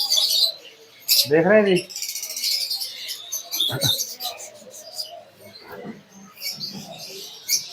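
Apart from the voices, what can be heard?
cockatiel pairs chirping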